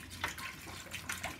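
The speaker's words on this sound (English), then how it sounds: "I pour in water." Tap water poured from a bottle into the tank of an ultrasonic humidifier, a short gurgling, splashing stream with uneven glugs.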